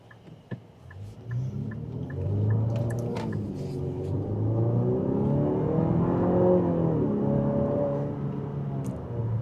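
A 2027 Infiniti QX65 Autograph accelerating in sport mode from inside the cabin, a steady engine drone rising through several gear changes, loud and continuous for most of the clip after a brief quiet start.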